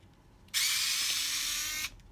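A small powered screwdriver whirs steadily for just over a second, removing clamp screws from a fishing reel casing, a close, high buzzing that starts and stops abruptly in a quiet workshop.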